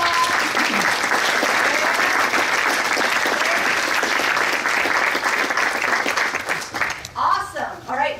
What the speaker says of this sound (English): Get your applause